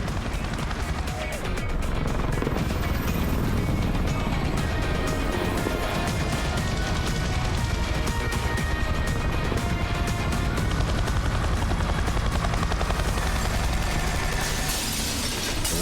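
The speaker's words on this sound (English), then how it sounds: "a man in a helicopter with a minigun" Loud, dense game action from Yakuza 6 with a helicopter carrying a minigun-wielding gunman, rotor noise buried under continuous gunfire, crashes and shattering debris, a constant wall of sound.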